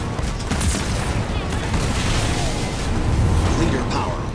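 Enemy air units in the Halo Wars 2 campaign rake the area with continuous, loud rapid gunfire mixed with mechanical rumbling and explosive pops, with a voice speaking over the battle.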